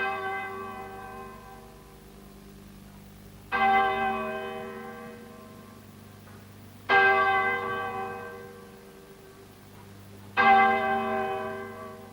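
Three tolls of a church bell, each a loud, bright strike that hums and slowly decays over several seconds, evenly spaced and heard alone without voices.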